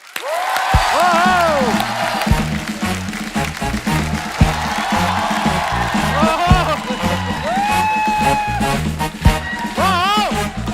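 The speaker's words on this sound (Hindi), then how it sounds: "तो सबसे पहले आप सबकी जोरदार तालियों के बीच प्लीज वेलकम असरानी साहब।" A studio audience on a comedy talk show breaks into loud sustained applause for guest Asrani, the clapping dense and close and mixed with whoops, shouts and cheering voices.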